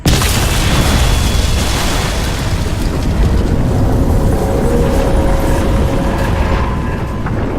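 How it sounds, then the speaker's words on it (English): A huge explosion in the video game Crysis 2, a loud sustained roaring rumble that fills the whole stretch with no pause. "Explosion imminent."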